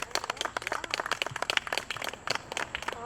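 Audience clapping at a Porchfest outdoor porch concert, a dense, steady patter of many hands lasting the whole stretch at moderate volume, with no talk over it.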